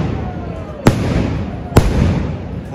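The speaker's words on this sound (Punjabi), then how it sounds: "ਲਾਸਟ ਆਪਾਂ ਜਦੋਂ ਵੀ ਲੋਕ ਕਰਦੇ ਆ ਉਦੋਂ ਹੀ ਪਟਾਕੇ ਚੱਲਦੇ ਜੀ" Firecrackers bursting during an outdoor New Year celebration: two sharp, loud bangs about a second apart over a steady background of crackling and distant popping, with faint voices in the mix.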